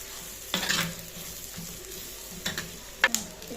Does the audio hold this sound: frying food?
yes